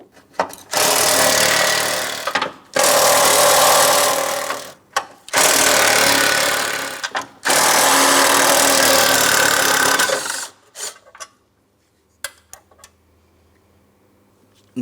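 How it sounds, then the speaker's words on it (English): Power tool zipping out 13mm mounting bolts near the radiator of a 2004-2008 Pontiac Grand Prix 3.8L V6, in four loud sustained whirring bursts separated by short pauses, then quiet with a few faint clicks. "Let's remove all 4 of the bolts."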